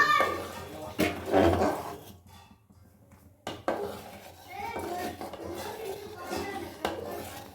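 Rice and milk being stirred in a pot for payesh, a Bengali rice pudding, with a spoon clinking and scraping against the metal in bursts, mixed with speech and household background noise.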